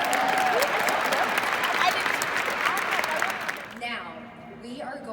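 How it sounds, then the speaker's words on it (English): Audience applause at a women's conference, a dense wash of clapping filling the room at moderate volume before thinning out near the end, with a voice faintly over it. "Round of applause if you're feeling inspired this morning."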